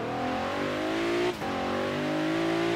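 A Cadillac ATS-V engine in the racing game Forza Horizon 3 holds a steady, rising drone as the car accelerates, with a brief dip around a gear shift midway, then the engine pulls on smoothly.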